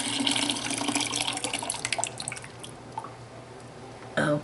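Hot cherry juice, made with sugar and hot water, is poured into a bucket, splashing and trickling with irregular drips that thin out and end in a brief final splash.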